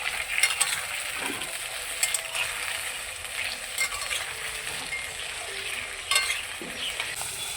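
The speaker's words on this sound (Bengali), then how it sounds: "এখন আলুগুলোকে আমি সরষের তেলে ভেজে নেব।" Potatoes fry in mustard oil in a wok, giving a soft, steady sizzle broken by occasional scraping stirs and brief louder crackles, close and fairly quiet with no speech.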